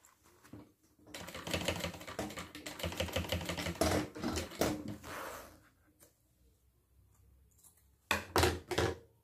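A sewing machine stitches a fabric bag lining in a long run of rapid, rattling needle strokes lasting several seconds, then a pause and a few short bursts, close and fairly quiet.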